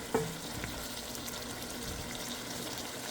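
Adobong sitaw, string beans in a pan with vinegar, is stirred over heat: a steady soft sizzle and bubbling with one sharp utensil clink at the start, close and quiet.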